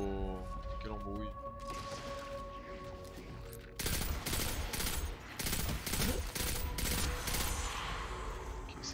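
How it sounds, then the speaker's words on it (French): Burst-fire rifle shots in the video game Destiny 2 ring out as rapid clustered cracks in repeated bursts over game music and tones, loud and dense through the second half. "Ok, ça c'est un rafale."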